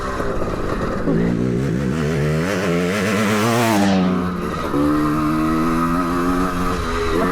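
A 1980 Cotton EMX, a British-made two-stroke twinshock dirt bike, revs loudly and continuously up close, its engine note rising and falling as the rider works the throttle, with no talking over it.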